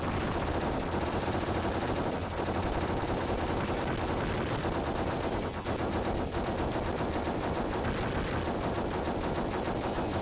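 Rapid gunfire from a Sega Genesis video game, played on real hardware, rattles on almost without a break over a steady game soundtrack, loud and dense for the whole stretch.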